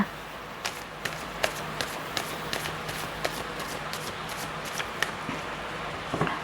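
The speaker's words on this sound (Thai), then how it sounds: "ขอสับไพ่ก่อนนะคะ" Tarot cards being shuffled by hand, giving a faint, quiet series of crisp riffling taps at roughly regular intervals over a low steady background, with no voices.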